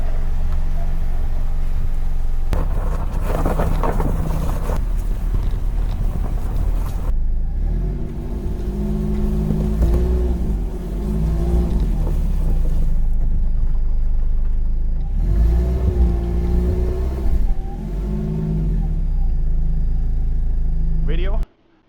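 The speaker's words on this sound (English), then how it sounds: "I tried to drive off. And both front tires were spinning." A Nissan's front tires spinning on a snowy hill, with the engine revving and droning loudly, rising and falling in pitch through several surges before cutting off abruptly at the end.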